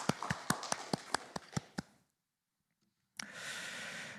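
A Sunday church congregation claps in quick, even rhythm, about ten crisp claps in two seconds, then a pause of silence before a soft wash of room noise returns.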